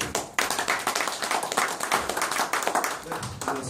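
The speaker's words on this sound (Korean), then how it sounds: "박수로 맞이해 주십시오." An audience at a forum applauds to welcome a lecturer, dense steady clapping from many hands filling the room, close and lively throughout.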